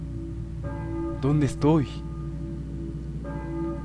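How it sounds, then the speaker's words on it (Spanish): In the Silent Hill video game, church bells ring as a sustained droning tone that fades in and out, and a voice speaks briefly in the middle over it. "Las campanas suenan, pero no las de la escuela."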